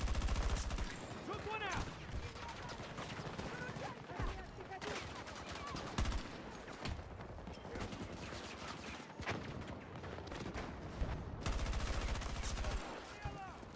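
Dense, sustained gunfire from Battlefield 2042, with rapid automatic bursts and sharp shots overlapping continuously at close range, loud throughout with brief dips and a faint voice now and then.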